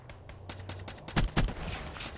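Video-game gunfire in a search-and-destroy match: a quick run of sharp shots, then two louder close blasts, with faint background game noise and no talk.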